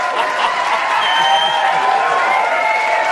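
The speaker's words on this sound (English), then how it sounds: "I gotta do some cheering in here" A crowd cheers and applauds in a dense, steady roar, with many hands clapping and voices whooping together loudly and without a break throughout.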